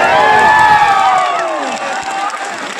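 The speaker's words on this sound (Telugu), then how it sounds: "పెద్ద ఎత్తున చప్పట్లతో స్వాగతం పలకండి" A large crowd at a political rally in Kamareddy, welcoming Priyanka Gandhi, roars with loud cheers, shouts and clapping, easing slightly toward the end.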